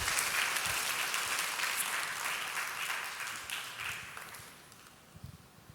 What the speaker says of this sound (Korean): 우리 큰 박수로 한번 청해서 듣도록 하겠습니다